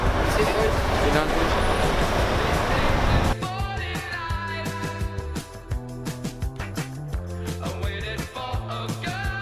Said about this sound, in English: Alright, we're on the train.